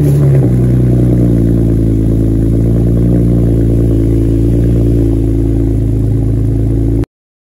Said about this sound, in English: here is a clip of the MBRP axle-back exhaust on startup